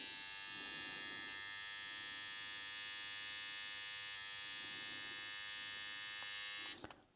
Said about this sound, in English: let's see how loud the T45 trimmer is on low.